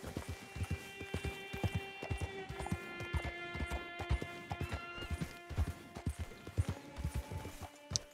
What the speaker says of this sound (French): Le cheval, on le pousse au maximum de jusqu'où il peut aller.